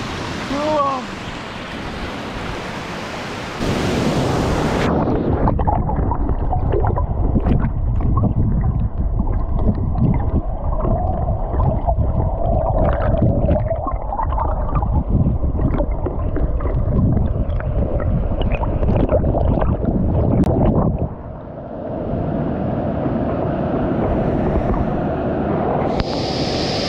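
A waterfall in Blue Ridge, Georgia, gives off a loud, steady broadband roar that runs close and continuous for most of the stretch, with voices heard briefly at the start.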